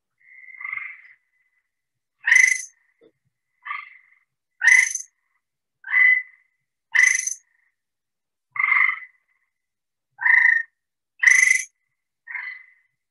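A frog species with the loudest call in North America calls repeatedly, sounding loud, clear, high-pitched, near and alone, with about ten separate short bursts spaced a second or two apart.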